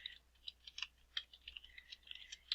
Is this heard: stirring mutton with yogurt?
no